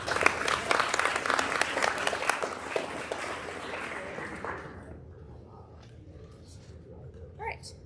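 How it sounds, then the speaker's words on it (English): Audience at a junior high honors program breaking into applause, dense clapping for about four seconds that fades into a quiet room, with a voice beginning to speak afterward. "round of applause for everybody"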